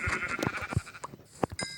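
Sheep bleat in the Minecraft video game, several short nasal bleats spaced irregularly over under two seconds, fairly close and clear with no talking over them.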